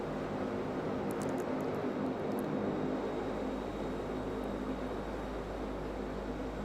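Dash 8 Q400 turboprop roaring steadily at takeoff power in a flight simulator, a continuous broadband engine and propeller drone with a low hum, loud and unbroken throughout.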